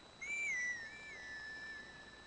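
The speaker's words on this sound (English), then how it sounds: "the game took away your ocarina, so you have to blow. You have to grass whistle." A grass whistle blown in Zelda: Twilight Princess, a single sustained whistled tone that rises, wavers and slowly falls over about two seconds, fairly faint and heard alone.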